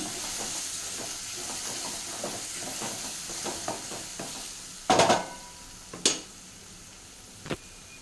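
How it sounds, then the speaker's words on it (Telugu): Turmeric being stirred into palak curry in a pan, a steady low sizzle with soft scraping strokes throughout and a few louder clanks of the spoon against the pan near the end. "పసుపు వేస్తున్నాను. మిక్స్ చేద్దాం. మిక్స్ చేసుకుందాం."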